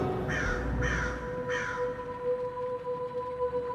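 Crows cawing three times in an even rhythm, harsh and fairly close, over a low ambient drone.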